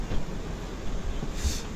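Interior of a Polish night train while riding, a low, steady rumble and rattle of the carriage rolling along, faint and continuous with no talk.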